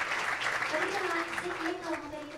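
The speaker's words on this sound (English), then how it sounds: "Please give them a warm round of applause, everyone" Applause at a children's world peace summit, a soft continuous patter of many hands, with voices and a tonal sound carrying over it throughout.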